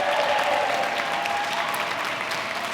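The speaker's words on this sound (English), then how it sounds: "an amazing round of applause for Veronica Vera right here" A congregation claps during a Sunday service, a steady moderate round of applause for a performer that holds evenly and tapers slightly near the end.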